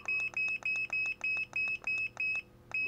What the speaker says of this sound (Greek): να αρχίσει να μας προειδοποιεί με το μπιπεράκι που έχει πάνω.